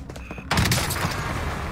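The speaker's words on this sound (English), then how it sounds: "our player here dominates the enemy with the Origin shotgun" Origin shotgun fire in the Warzone battle game, a loud close blast that cuts in suddenly and rolls into a dense, noisy tail of gunfire and game sound, with faint voices underneath.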